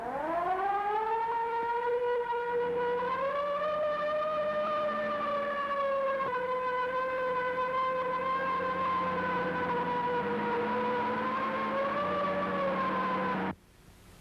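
Wailing police car sirens in an early-1930s city street, a steady, loud rising and falling howl that holds for many seconds over low engine rumble, then cuts off abruptly.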